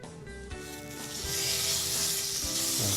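Boneless quail hit a hot skillet and sizzle loudly, a dense hissing crackle that swells within the first second and stays steady throughout, with a few soft clunks of the pan.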